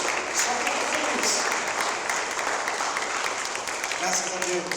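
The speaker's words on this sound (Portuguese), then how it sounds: "Aplaude bem forte ao Senhor Jesus" Congregation in a church applauding loudly and steadily, a dense continuous wash of many hands with crowd voices mixed in throughout.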